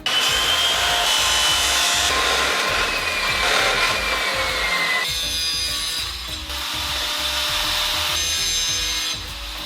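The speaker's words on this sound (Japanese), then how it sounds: "この長い配管を切って抜け止めのパーツを作っていきます。" A long PVC pipe from scrap is sawn by hand, giving steady back-and-forth rasping strokes that are loud and close, with brief pauses and shifts in tone as the cut deepens, and no talk.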